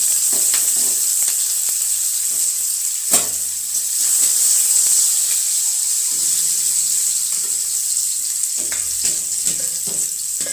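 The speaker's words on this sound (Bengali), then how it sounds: "তো পেঁয়াজ ভাজি করে দিয়েছি" Onions sizzling and frying in hot oil in a wok for a capsicum, potato and carrot bhaji, a steady loud hiss with occasional stirring scrapes and no talk.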